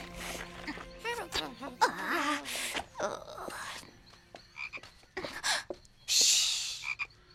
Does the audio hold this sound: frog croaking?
yes